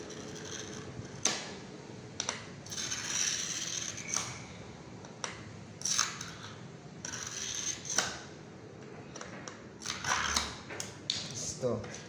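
Glass cutter scoring a ceramic tile, heard as short dry scratchy strokes and clicks repeated several times at close range, with a faint hum in the background.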